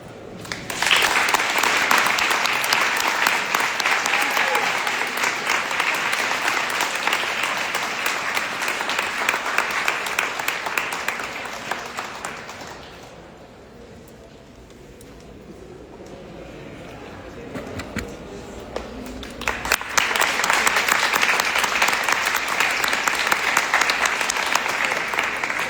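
Loud, dense audience applause fills an awards ceremony hall for victim rights honorees, dipping to a softer patter midway before swelling back to full strength.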